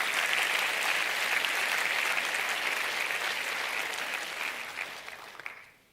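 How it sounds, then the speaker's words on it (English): Applause fills a large hall at a university spring graduation ceremony, a steady dense clapping from a big crowd that stays even for several seconds before thinning and fading out. "Can we please give them a round of applause for them?"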